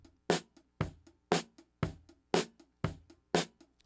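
Drum mic feed pushed through a heavy compressor that crunches it up, then EQ'd: evenly spaced hard hits about twice a second, each with a sharp broadband attack and quick decay, with small ghost taps in between, loud and alone.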